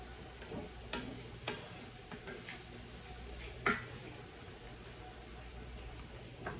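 Seasoned vegetables and spices sizzle in a pot while being stirred, a steady frying hiss broken by scraping strokes and one sharp metallic clank partway through.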